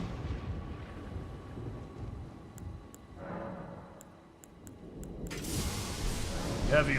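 Heavy Lightning Ram skill effect from the video game Elden Ring: a low rumbling thunderous roar with a burst of crackling static that surges loud near the end over steady game ambience.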